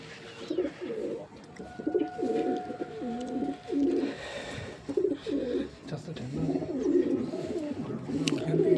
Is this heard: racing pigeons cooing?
yes